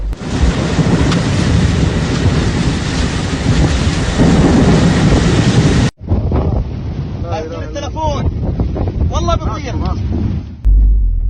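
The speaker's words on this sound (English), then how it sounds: "Unusual storm in Makkah, Saudi Arabia." Unusual storm near Jeddah and Makkah, Saudi Arabia: loud wind buffeting and roaring rain fill the first half, then a quieter stretch of rain and gusts with voices faintly talking beneath.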